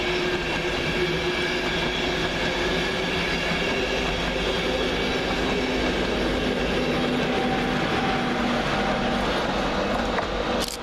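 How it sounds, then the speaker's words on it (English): An LNER train hauled by locomotive 91127 departs Peterborough station, a continuous loud rumble of wheels and engine with faint rhythmic clatter and a thin squeal, steady throughout without speech. "Departed 10 minutes late as a local haul service propelled by 91127, working the 1330 LNER service from York to London King's"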